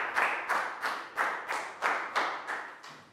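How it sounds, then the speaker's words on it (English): A small class in a Year 3 maths lesson on symmetry claps together in a steady rhythm, about nine evenly spaced group claps, close and distinct with no talking. "Big round of applause for Pat."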